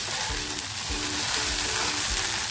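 Bhindi (okra) sabzi frying in a pan on a gas stove, a steady close sizzle with soft periodic stirring scrapes, no talking.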